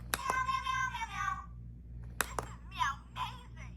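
A small electronic toy headband gives a bright, high meow, then after a pause a few shorter meowing chirps, fairly close and clear.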